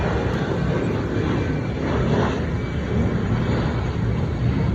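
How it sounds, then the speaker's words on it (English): A Cebu Pacific Airbus A320-214 takes off from the runway on a Zamboanga to Manila flight, its jet engines producing a loud, steady broadband roar that fills the whole clip with no voices. "It take off on runway 60. Airbus A320."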